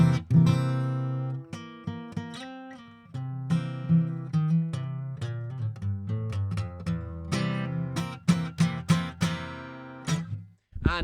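A guitar strums and picks a bright, crunchy major chord with a dominant Mixolydian colour, mid-loud notes ringing and rearticulated in an uneven rhythm before a final quick flurry of strums, with no talking.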